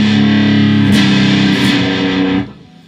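Distorted electric guitar ringing out a sustained, thick chord that swells and then drops away near the end, loud and alone.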